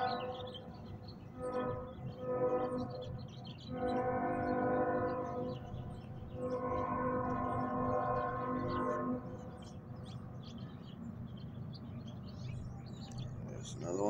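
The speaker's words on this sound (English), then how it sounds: "This and the trains." Trains pass in the early morning, with a sustained rumble and tonal horn-like drones rising and falling over several seconds at a moderate distance, while birds chirp faintly in the background.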